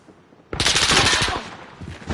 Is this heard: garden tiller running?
no